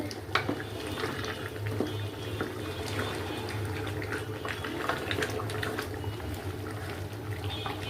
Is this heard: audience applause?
no